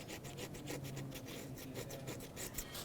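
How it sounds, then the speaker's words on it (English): Razor blade scraping accumulated debris off the thermostat housing surface of a 2001-2007 Volvo V70, close rapid rasping strokes repeating in a quick rhythm. "with a razor blade, I'm going to go ahead and scrape off all of this debris that has accumulated on here"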